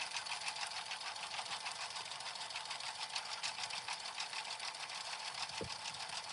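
An embroidery machine stitches out snap tabs and bag tags in a steady, rapid mechanical whir that runs unbroken and fairly quiet, with no one talking.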